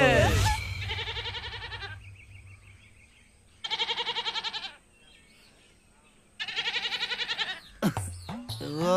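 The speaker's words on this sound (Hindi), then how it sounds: "बेचारा बकरा इस वक्त क्या सोच रहा होगा?" Goat in an animated Hindi village scene bleating in two long, pulsing, vibrato cries separated by a pause, loud and close, followed by a sharp clatter at the end.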